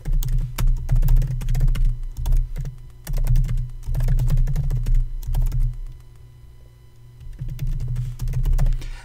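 Typing on a computer keyboard in bursts of rapid, close keystrokes, broken by short pauses and one longer quiet gap before the typing resumes.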